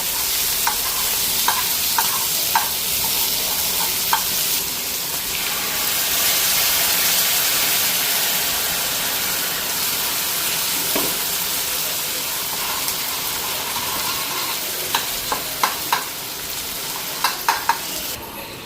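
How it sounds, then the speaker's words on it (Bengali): Spices frying and being stirred in a pan over steady sizzling, with occasional sharp clicks and scrapes of a utensil against the pan, close and continuous with no talking. "এটা একটু ফ্রাই করে নিই।"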